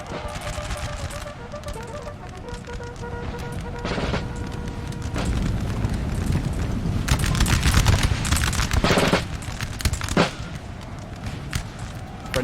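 Musket volleys crackle in the Napoleon Total War video game during a battle at Montebello, 1800, with dense bursts of gunfire, booms and scattered shots layered over continuous battle din, loudest in the middle.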